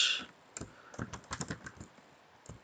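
Typing on a computer keyboard, a close run of irregular key clicks in short bursts with a brief pause, alone without voices.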